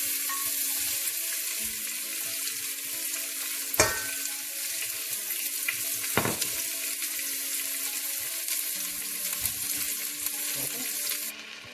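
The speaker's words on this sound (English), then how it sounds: "It looks quite hot. And since we are making for our neighbor, we won't be using any red chilies. But at this time you can use dry red chilies. I won't be using it. I'll directly put some onions." Onions dropped into hot oil in a pan, a continuous crackling sizzle with two sharp clatters of utensil against pan, steady and close, no voices.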